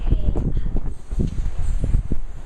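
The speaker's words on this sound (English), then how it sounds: "It's kind of windy out." Gusty wind buffeting the microphone in low rumbling bursts, with a faint rustle and no voices.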